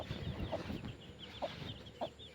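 Free-roaming hens on a country poultry farm, clucking in soft, repeated calls at moderate distance, a few sharper clucks standing out over a quiet outdoor background.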